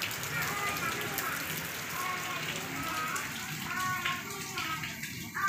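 Steady heavy rain pours down in a constant wash of hiss and patter, with faint voices buried in the downpour throughout.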